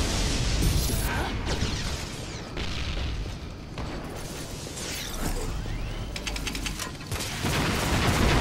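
Dense rapid gunfire from zombie-shooting action in a video game, loud and continuous with booms and mechanical clatter throughout, sustained bursts across the whole stretch.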